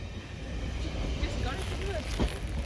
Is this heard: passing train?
yes